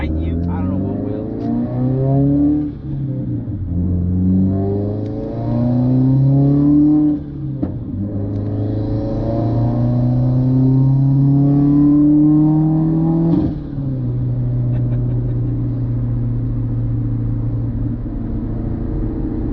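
Turbocharged Subaru WRX (2015 or later) fitted with a Boomba Racing blow-off valve, accelerating in fifth gear around 55 mph, engine drone rising steadily in two long pulls, with a voice talking over the cabin rumble.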